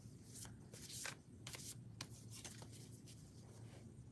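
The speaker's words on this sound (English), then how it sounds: "I am shuffling oracle cards" Oracle cards being shuffled by hand, a run of soft papery riffles and slides in an irregular rhythm, close and fairly quiet over a low steady background hum.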